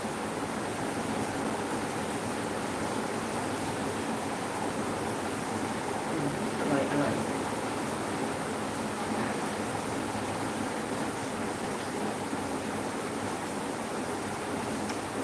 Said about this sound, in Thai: เสียงฝนดังมากเลย